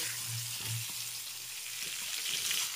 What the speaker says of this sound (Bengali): এখন খুব ভালো করে আমি ভেজে নিচ্ছি